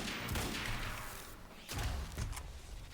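Gunfire in the video game Quantum Break, a few loud, close bursts of shots with a thumping impact in the middle, heard without any speech.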